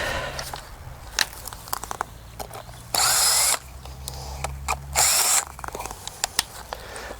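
Cordless drill driving screws at an allotment, with two loud, sustained whirring bursts of about half a second each, separated by scattered clicks and handling knocks, close by and with no talking.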